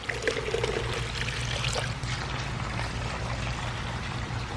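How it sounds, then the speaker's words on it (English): Dirty flush water pours steadily out of hydroponic irrigation lines on an Ohio tomato farm, a loud continuous splashing stream with no talking over it. "You can see how putrid this water is coming out of the lines."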